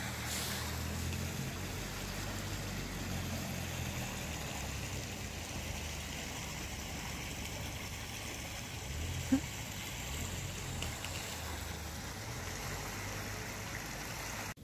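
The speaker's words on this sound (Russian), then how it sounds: "Тут же тебе ручей течет." A stream flows steadily during a snowfall in Korea, a constant close rushing and gurgling of water with a low rumble underneath and no break across the whole stretch.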